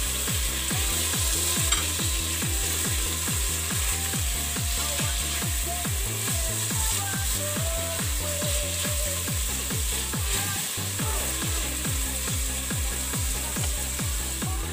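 Tomatoes sizzle in a hot pan for kinamatisan bangus, with a constant frying hiss broken by a rapid, regular scraping as a utensil stirs them, close and fairly loud.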